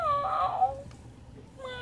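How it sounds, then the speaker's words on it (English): An electronic toy cat gives two short synthetic meows, one at the start and another near the end, close and clear. "You please stop meowing."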